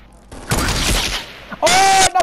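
Sniper rifle fire in Fortnite: a sharp report with a decaying crackling tail, followed about a second later by a bright tonal game effect, under brief chatter from a player.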